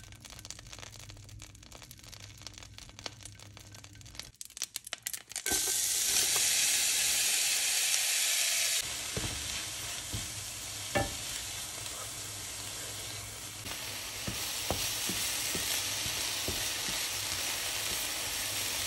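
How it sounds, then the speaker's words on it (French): Chopped onion hits melted butter in a frying pan and starts a steady, moderately loud sizzle after a brief quiet start, with occasional small pops and clatter, no voices. "faites fondre une parcelle de beurre dans une poêle et ajoutez l'oignon pour le cuire pendant 3 petites minutes"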